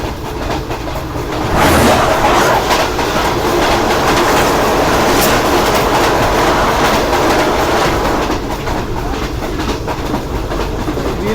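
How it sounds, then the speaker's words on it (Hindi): Passenger train 8 Down on the Pindi–Karachi route in Pakistan, running late and passing close by: a loud, sustained roar of wheels and carriages with a rhythmic clatter over the rails throughout. "इस वक्त हमारे सामने से आ रही है पिंडी कराची के दरमियान चलने वाली 8 डाउन देवगाम।"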